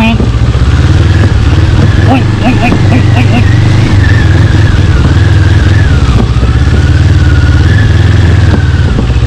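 An NK400 motorcycle ridden offroad produces a loud, continuous engine drone with rising and falling revs, while voices chatter in the background throughout.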